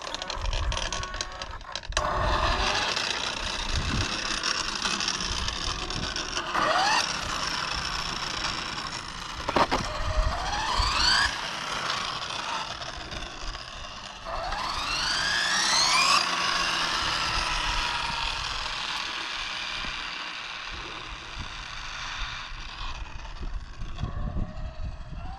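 An Arrma Limitless GT RC car with front and rear differentials locked drives continuously, its electric motor whining in repeated rising sweeps over a constant mechanical drone and tyre noise.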